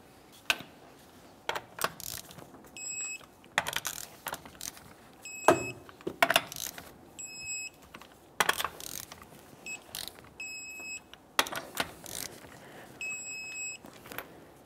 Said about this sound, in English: let's torque these to 100 foot-pounds